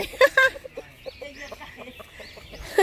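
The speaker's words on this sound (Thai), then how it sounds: "อันนี้ก็จะเป็นโรงบ้านไก่เลยนะคะเนี่ย นี่บ้านพักไก่นะคะ" Chickens clucking inside a chicken house on a farm, with several short, close clucks and calls in quick bursts over a quiet background.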